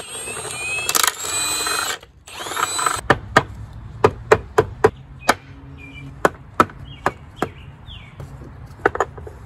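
Work on a Peugeot BA10 five-speed manual transmission begins with a couple of seconds of rattling and whirring, then a string of sharp metallic taps and knocks at an uneven pace, close and loud, to free the tail shaft extension housing.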